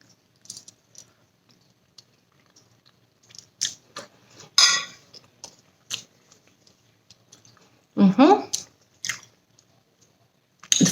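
Someone biting and chewing tofu with a chili seasoning, close wet squishy mouth sounds in a few short bursts between quiet moments.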